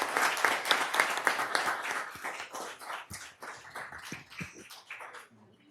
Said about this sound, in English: Oh, yeah, we can clap.